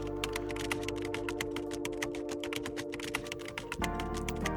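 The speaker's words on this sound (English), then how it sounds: "set up your new Wi-Fi router by typing this in the command prompt" Rapid, steady keystrokes on a computer keyboard as commands are typed into a PC's command prompt, close and fairly loud, with a brief pause near the end before the tapping resumes.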